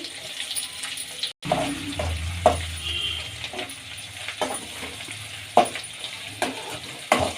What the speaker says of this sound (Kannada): ಚೆನ್ನಾಗಿ ಫ್ರೈ ಆಗಲಿ ಎಣ್ಣೆಯಲ್ಲಿ